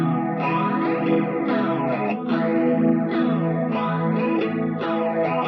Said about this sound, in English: this guitar is caked in reverb, distortion, phaser, and just a ton of different effects going on here